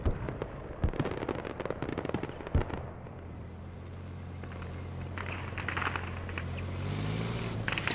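In the Squad video game, a BMP's ammo rack blows up as a rapid crackling burst of popping detonations, like a string of firecrackers, which then fades into a low rumble and a vehicle engine drone. No one talks.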